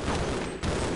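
Weapon fire in Half-Life, a continuous loud crackling volley of shots lasting about a second, dense and harsh, with no voices.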